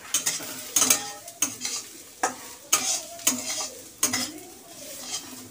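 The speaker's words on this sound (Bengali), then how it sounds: "মুগ ডালটা আরেকটু ভাজা হবে।" Moong dal being dry-fried in a pan while a spatula stirs it: sharp scraping strokes at an irregular pace of about one per second over a soft, close sizzle, with light clinks of metal and no speech.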